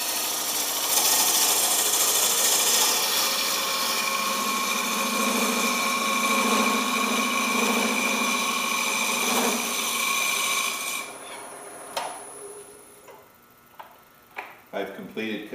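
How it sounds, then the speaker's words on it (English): Wood lathe spinning steadily while a tool cuts the outside of a bowl, a continuous loud scraping whir that drops away near the end into quieter knocks and handling sounds. "tighten it down to provide additional support while I'm turning the outside first"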